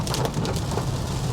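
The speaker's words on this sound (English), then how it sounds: "Boy, it's really raining." Heavy rain drumming on the body and glass of a VW Atlas Cross Sport V6 SEL Premium R-Line, a loud continuous hiss of dense drops heard from inside the car, no talking.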